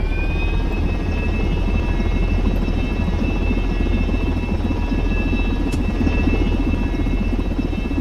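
Helicopter rotors on a plane in the SimplePlanes video game, a continuous loud whirring drone with steady tonal whine layered on top, unbroken for the whole stretch with no talking.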